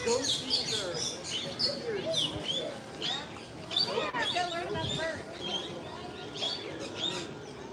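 Birds chirp and call around Disney's Animal Kingdom, a busy mix of tweets, squawks and coos close and farther off, with people talking over them throughout.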